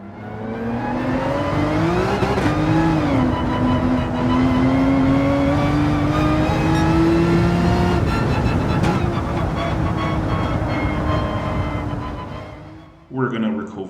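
Race cars lapping the Nordschleife in Gran Turismo 7, one engine note sustained and climbing steadily in pitch through the gears, loud and continuous, fading near the end with a brief burst.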